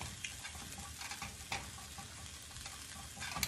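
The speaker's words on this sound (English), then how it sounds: "I'm gonna push my pan aside so the rice stops cooking." Veggie fried rice stir-fries in a pan with a dense, close sizzle, punctuated by quick scraping and clicking strokes of the spatula.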